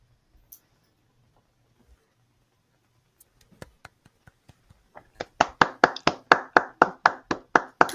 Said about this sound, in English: A plethora of clapping.